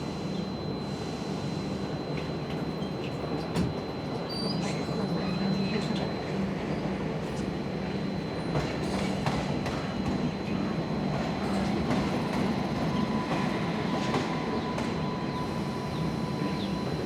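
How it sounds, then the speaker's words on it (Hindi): Train pulling into a station on a Bengaluru to Kalyan rail journey, a steady loud rumble with faint clatter and a high tonal whine throughout, close by, with no talk. "देखते हैं कौन सी ट्रेन है वो।"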